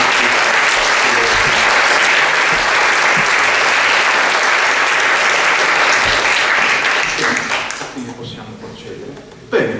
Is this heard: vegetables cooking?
no